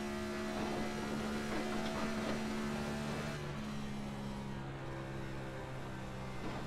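A race car engine in a sim racing game, steady and loud, its tone dipping briefly as the throttle is lifted then picking back up as power is reapplied, with no speech.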